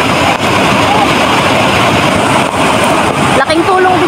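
Large waves crash and churn during Typhoon Emong, a loud continuous roar of surf and wind buffeting the microphone close by, with no pause.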